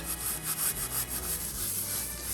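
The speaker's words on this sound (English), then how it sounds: "because it's big, I usually put it in my hand and I rub it" Dried parsley rubbed between the palms to break it up, producing a quiet, rhythmic dry rustling and crumbling in repeated strokes, close by, with no speech.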